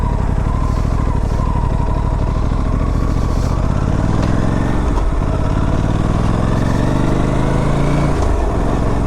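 An Aprilia RS457 motorcycle ridden on a slippery off-road track, its engine droning loud and close throughout, with the pitch rising and falling as the rider works the throttle over the rough ground.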